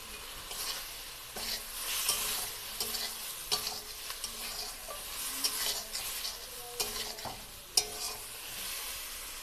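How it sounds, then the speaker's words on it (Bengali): Fried pointed gourd pieces cook in spiced oil, a continuous bright sizzle with repeated spatula scrapes and light clinks as the pieces are stirred, close and without talk. "এবার আমি পটলটা এর মধ্যে দিয়ে দেব ভেজে রাখা পটল"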